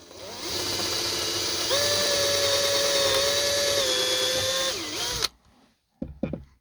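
A handheld power drill bores two holes along a marked line for a DIY bedroom DVD shelf, whining loud and close for about four seconds with a slight pitch dip, then cutting out, followed by a couple of brief bursts.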